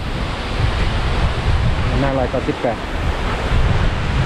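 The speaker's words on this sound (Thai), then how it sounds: "ฟังเสียงลม" Strong wind roars steadily against the microphone with heavy rumbling gusts, while a voice speaks briefly underneath.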